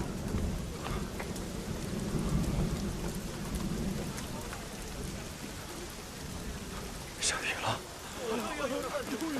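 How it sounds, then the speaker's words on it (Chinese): Steady rain falls with a low rumble of thunder beneath it, and a few faint voices surface briefly near the end. "下雨了！"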